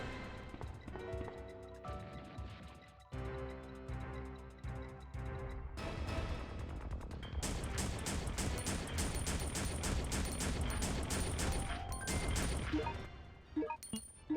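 Gunfire during a fight with Mr. X in Resident Evil: tonal game music at first, then a dense run of rapid, hard shots and crashing impacts filling the second half.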